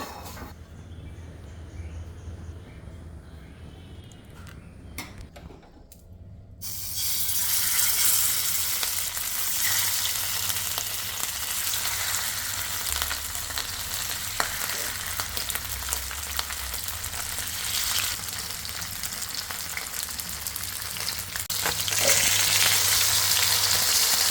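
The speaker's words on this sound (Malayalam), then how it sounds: "എണ്ണയിലോട്ടിട്ട് വറുത്തെടുക്കാം" Loud, steady sizzling of sardines frying in hot oil, rising sharply after a quieter opening and crackling continuously to the end.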